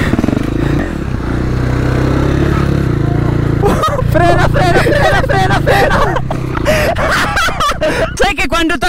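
A motorcycle engine idles loudly up close, then revs and sputters unevenly while voices chatter over the top.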